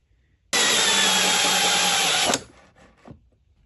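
A power drill with a 2.5-inch hole saw whines steadily for about two seconds, loud and close, then cuts off, followed by faint rattling.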